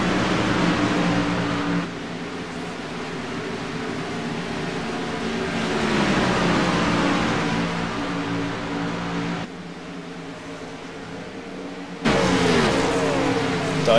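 Stock cars race on the Road America road course, engines droning and shifting pitch as cars pass, with abrupt cuts between camera angles and steady loud engine noise throughout.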